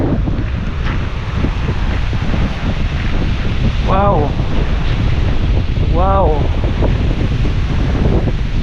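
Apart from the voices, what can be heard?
strong wind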